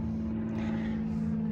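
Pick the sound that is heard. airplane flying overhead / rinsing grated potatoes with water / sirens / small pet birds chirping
airplane flying overhead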